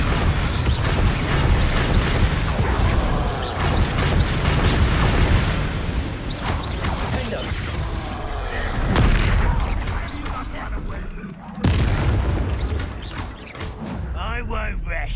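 Bombarda spell blasts in Hogwarts Legacy, loud booming explosions mixed with clattering combat effects and music, with voices talking through the fight and a sharp burst near the end.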